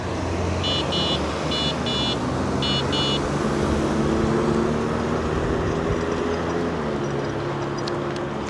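A car rolls through a four-way stop near a freeway on-ramp, its engine and tire noise rising and fading against steady wind and road rumble heard from a bicycle, with a few brief high beeping chirps early on.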